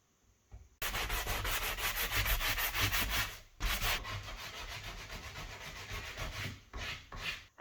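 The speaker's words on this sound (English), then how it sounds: "I'm going to take this sander and sand it down really fast." An electric sander grinds loudly and steadily across a surface, with a brief pause midway and a few short breaks near the end.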